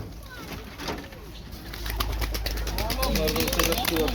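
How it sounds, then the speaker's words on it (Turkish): Sivas breed pigeons coo softly in a loft, low murmuring calls layered over a steady background hum, with a voice talking throughout. "Bunlar Sivas kuşu arkadaşlar"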